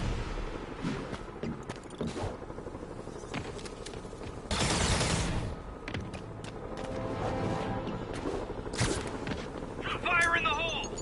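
Bursts of gunfire from a PS4 prison-escape shooter, prisoners firing from stolen vehicles, crackling repeatedly at mid distance over steady engine and game ambience, with a louder volley around the middle and clicks near the end.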